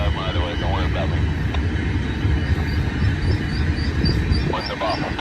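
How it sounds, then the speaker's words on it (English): BNSF and Union Pacific freight trains pass together, a steady heavy rumble of rolling cars and wheels with high squeals, and a horn sounding faintly in the distance, continuous throughout. "Battle of the freight trains. BNSF versus the Union Pacific."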